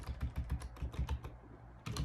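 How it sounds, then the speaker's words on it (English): Quick bursts of keystrokes on a computer keyboard, close and fairly quiet, a run of evenly spaced taps, a short pause, then a couple more presses. "And in your terminal window, type in pip install,"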